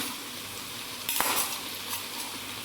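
Masala being stirred into undhiyu, a Gujarati mixed-vegetable dish, in a pan: soft scraping and a gentle sizzle, with one sharper clink of the spoon against the pan midway.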